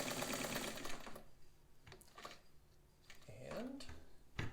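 An Anker heavy-duty zigzag sewing machine stitching along a shirt cuff, a quick mechanical whir in a short burst, then scattered clicks and taps with a faint voice-like glide near the end.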